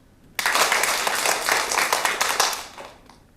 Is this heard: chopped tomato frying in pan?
no